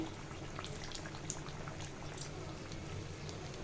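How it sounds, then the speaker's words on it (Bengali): Eggplant beguni fritters frying in oil over medium heat: a soft, even bubbling hiss with scattered pops, quiet and close. "চপগুলো মিডিয়াম জালে রেখে ভাজতে হবে"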